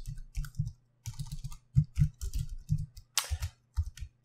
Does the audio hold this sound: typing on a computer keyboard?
yes